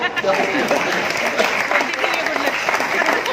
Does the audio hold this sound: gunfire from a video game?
no